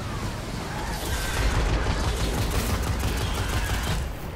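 Dense auto rifle fire mixed with repeated explosions in the video game Destiny, a loud, continuous barrage with no break.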